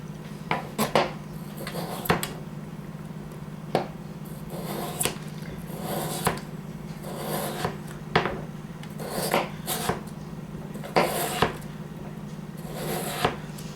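A knife slices potatoes on a cutting board for potatoes dauphinoise, giving sharp, separate cutting knocks at an irregular pace over a steady low hum, close and fairly quiet.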